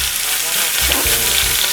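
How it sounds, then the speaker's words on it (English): Wagyu picanha sears loudly in a hot pan, a steady, aggressive hiss and crackle of fat that runs continuously and close throughout, with no talking. "you're gonna hear that nice aggressive sear"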